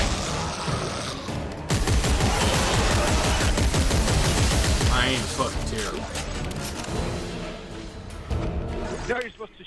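Gunfire against enemies in Dead Space 3 co-op play, a loud continuous barrage of rapid shots and impacts that runs for several seconds, then thins into scattered clanks and bursts, with voices talking over it.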